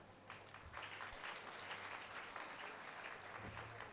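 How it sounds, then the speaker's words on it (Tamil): Sustained audience applause at a school day event at Ananda Vidyalaya, a steady wash of many hands clapping throughout with no voices on top. "இன்னும் சிறப்பாக கைத்தட்டலாமே"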